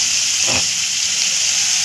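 Chicken frying in oil hisses in a dense, steady sizzle, with one brief louder whoosh of stirring or steam early on; no speech.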